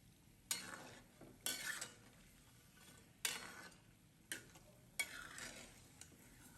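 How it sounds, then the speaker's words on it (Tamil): Mysore paruppu vadai fry in oil over a low flame, with a quiet steady sizzle broken by about five sharp clinks and scrapes of a utensil against the pan. "இப்போ ஒரு வடையாக போட்டு லோ ஃப்ளேமில் 2 பக்கமும் கோல்டன் ப்ரௌன் ஆகிற வரைக்கும் ஃப்ரை பண்ணி"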